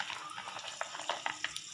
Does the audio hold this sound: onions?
yes